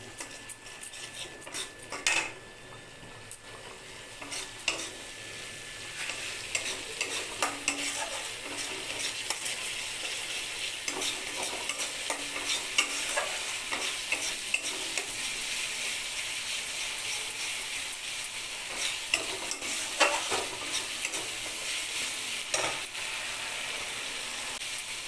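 Spice masala with Kashmiri red chili powder sizzles in a pan while a metal spoon stirs it steadily, giving frequent clinks and scrapes over a continuous frying hiss for a long stretch.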